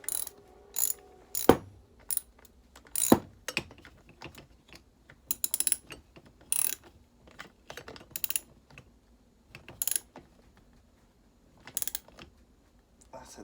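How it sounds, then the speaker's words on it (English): Short bursts of sharp ratcheting clicks from an open-end wrench tightening a fitting on an old barn-find chainsaw, close up, separated by quiet pauses. "It's a lot easier with a open-end wrench."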